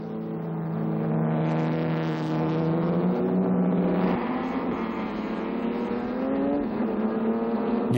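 An ERA historic racing car now fitted with a 2-litre engine drones at close range, its steady harmonic engine note holding strong and rising slightly in pitch as it runs, with no voices over it.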